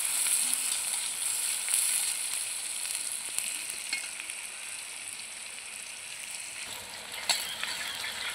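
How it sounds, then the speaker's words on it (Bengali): Chopped onions fry in a pan at an outdoor village-style cooking setup, giving a steady, fairly close hiss and crackle with occasional faint stirring scrapes, and no voices. "সুন্দরভাবে নাড়িয়ে আমি একটু ভেজে নেব।"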